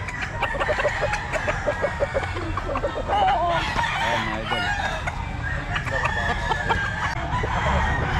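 Chickens cluck steadily and a rooster crows among farm-bred fowl at a poultry gathering in Bulacan, a dense continuous barnyard chorus with repeated crows rising over the clucking throughout.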